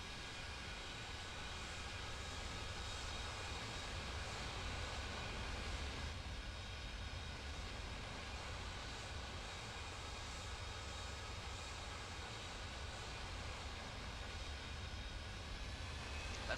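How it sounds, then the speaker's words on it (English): A steady, distant roar of a Boeing C-17 cargo plane at full power on an aircraft carrier, constant and unbroken throughout with a faint whine on top, no talk. "Let's watch here the takeoff of this C-17 taking off from an aircraft carrier."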